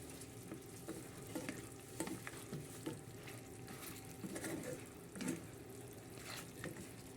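Adobo chicken feet cooking in a pan on a low simmer, giving a quiet, steady sizzle and bubbling with faint stirring sounds and no talk.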